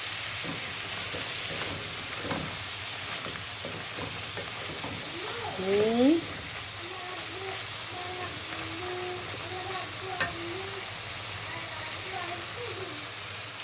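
Shrimp frying with softened onions in a pan give a steady close sizzle with occasional stirring scrapes, while a voice briefly murmurs in the background partway through.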